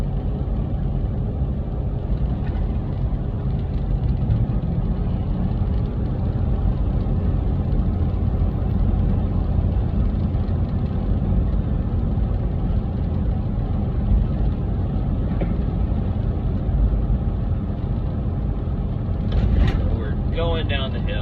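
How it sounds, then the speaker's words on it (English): A heavy truck engine drones steadily with a deep, constant rumble, its engine brake holding back on a long mountain downhill on I-17 at about 73 mph, with brief mechanical rattles near the end. "start the engine brake to work"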